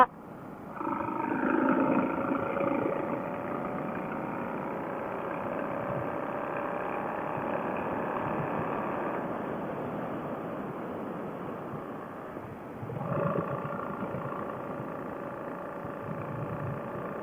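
An Indian Scout motorcycle fitted with a Handmo Shorty GP exhaust runs loud and close, a steady throaty engine drone holding for the full length with a brief surge in level near the end.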